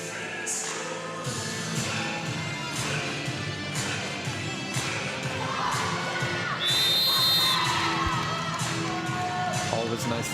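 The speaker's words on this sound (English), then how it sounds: "nice to see the crowd engagement." Crowd cheering and shouting at an under-18 girls' volleyball final, a loud continuous roar with whoops, a whistle and high-pitched voices rising above it, close and sustained throughout.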